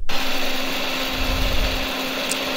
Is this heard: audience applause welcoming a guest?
no